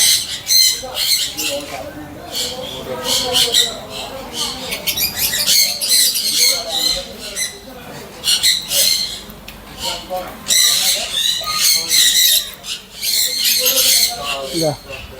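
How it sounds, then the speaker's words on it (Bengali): Many birds squawk and chirp continuously at close range, a dense, noisy chorus with overlapping shrill calls throughout. "পাখির কিচিমিচি কিচিমিচি আওয়াজ"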